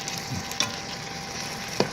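Thin top round steak strips sizzle steadily in a Ninja Foodi, with two sharp clicks from the stirring utensil over a quiet, continuous fry.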